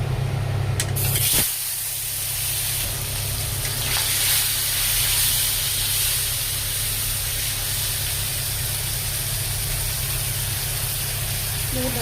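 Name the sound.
fish frying in hot oil in a kadai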